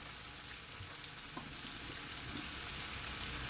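Onions and tomatoes fry in a pan for soyabean keema, a faint, steady sizzle with small crackles throughout. No voices are heard.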